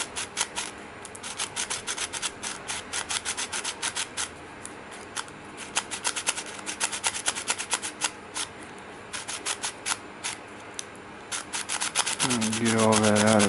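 Sand grinding inside the lens mechanism of a Sony DSC-WX300 camera, a dense repeated gritty scraping and rubbing, close and steady, ending with a rising motor whine.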